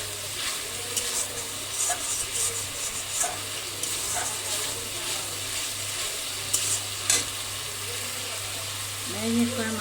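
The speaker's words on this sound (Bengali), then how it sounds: "ম্যারিনেট করা মাংসটা দিয়ে দিচ্ছি।" Marinated chicken being stir-fried for curry in a pan, with a continuous close sizzle and spatula scrapes and stirring clinks throughout, the frying hiss steady and fairly loud.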